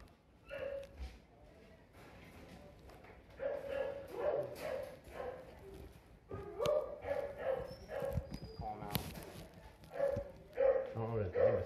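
Dogs bark inside a house during a police entry: repeated yips and woofs come in bursts throughout, mixed with people talking and shouting over them.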